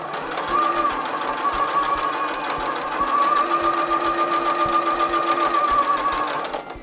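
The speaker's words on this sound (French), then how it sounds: "J'ai donc cousu sur le dessin précédemment tracé." Sewing machine stitching fabric for a homemade face mask, running steadily for several seconds with a rapid, even mechanical chatter and a whirring hum, close and alone, slowing briefly at the end.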